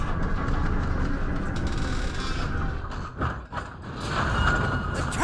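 A steady mechanical rumble with rattling and clanking from a labouring train engine in a video game, continuous and fairly loud with no voices.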